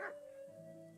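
A dog in Kingdom Come: Deliverance gives one short, close bark at the very start, followed by a steady tonal game music drone.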